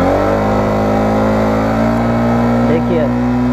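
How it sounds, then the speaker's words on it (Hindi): A Yamaha MT15 BS6 motorcycle engine revs hard toward 7000 RPM, a loud, close, steadily climbing mechanical whine with strong harmonics, continuous throughout. "मैं 7000 RPM को हिट करूंगा तभी ये VVA एक्टिवेट होगा"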